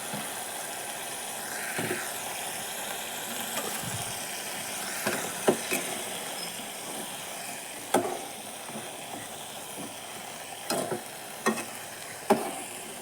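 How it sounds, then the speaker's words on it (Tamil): Brinjal cut lengthwise being stirred and sautéed in oil with ginger and garlic, a low steady sizzle broken by several sharp spoon scrapes and clinks against the pan, with no talking. "இது கூடவே நம்ம கத்திரிக்காய் சேர்த்துக்கலாம். சேர்ந்து நல்லா வணங்கி வரட்டும்."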